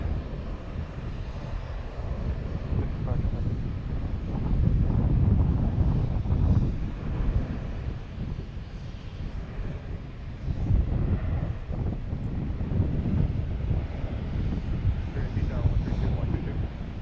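A United airliner landing on runway 4 right at Boston's Logan Airport, heard as a steady low engine roar mixed with wind buffeting the microphone, swelling gradually over about seventeen seconds.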